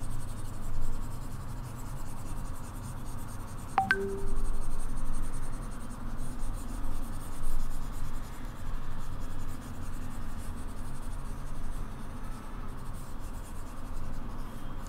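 A pen scratches out rough working on paper during a class 10 maths probability problem, steady faint scribbling strokes close by with a brief click near the start.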